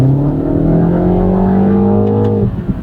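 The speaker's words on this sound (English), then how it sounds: "2-liter turbocharged 4-cylinder engine, 228 horsepower, perhaps more importantly, 280 pound-feet of torque" A 2025 Mini JCW's 2-liter turbocharged four-cylinder engine accelerates steadily with a rising, droning note and strong harmonics, loud and close, then eases off near the end.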